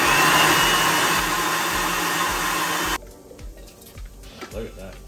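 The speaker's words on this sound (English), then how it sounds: "And let's blend again." A blender whirs loudly and steadily through roasted tomato soup with basil and caramelized onions, then cuts off abruptly about three seconds in, leaving quieter kitchen sounds and a few soft knocks.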